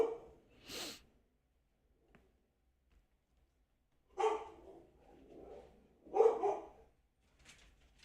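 A dog barks in a few scattered bursts, fairly distant and muffled, with quiet gaps and some snorting between.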